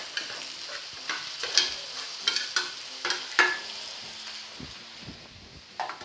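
Chilled overnight jasmine and Sao Hai rice, mixed with cooked egg, is stir-fried in a pan for pork soy-sauce fried rice: a sizzle runs under repeated close, sharp scraping strokes of the spatula at an uneven rhythm.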